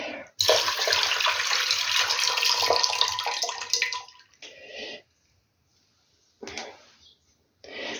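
Water poured out of jars of cherries being prepared for compote, a loud continuous splashing gush that tapers off, followed by short separate pours with pauses between.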